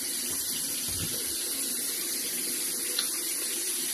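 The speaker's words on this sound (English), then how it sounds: "Wash your hands for 20 seconds with warm water." Running tap water for hand washing, a steady close hiss of water flowing into a sink, continuous and even.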